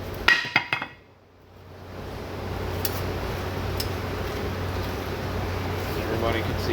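A hammer strikes the rusty brake rotor on a Hyundai Sonata in a few sharp metallic clanks at the start, followed by steady background hum and faint ticks.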